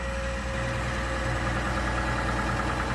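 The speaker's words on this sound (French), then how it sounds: "Il tourne au ralenti et je vais monter les tours pour te faire entendre ce que j'ai entendu." A 2025 Chevrolet Suburban engine idles steadily in a workshop. It is a constant, loud mechanical hum with a fixed tone and no change in revs for three seconds, and no voices.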